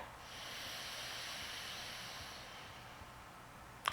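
A soft, steady inhale through the left nostril during alternate nostril yoga breathing, a long faint airy hiss that fades, followed by a brief click at the end.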